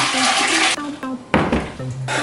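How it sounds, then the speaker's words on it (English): Water gushes from a tap into a canning pot in short, loud bursts broken by brief pauses, the pitch of the splashing shifting as the pot fills. "So we're just going to fill this up with water."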